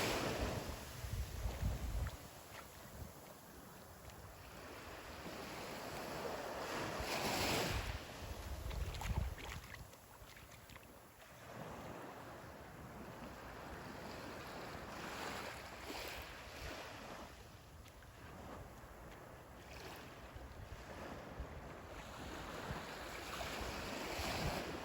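Surf rolls onto the beach at Captiva Island, Florida, a steady wash of breaking waves with gusty wind buffeting the microphone, swelling in a few louder surges and otherwise holding a constant roar with no voices.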